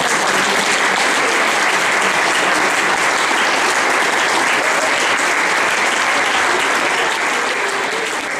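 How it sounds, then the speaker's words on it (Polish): Audience applause for the actors at a Polish Independence Day (11 November) school commemoration, a dense, steady clapping crowd filling the room from start to finish without letup. "w tej chwili jeszcze raz oklaski dla aktorów"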